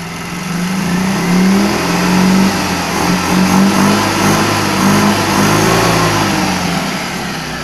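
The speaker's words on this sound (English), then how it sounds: "we are going to rev. Notice the HHO gas." A car engine running on HHO gas revs up and holds a steady mid-pitched drone with slight rises and falls, loud and close with no voices.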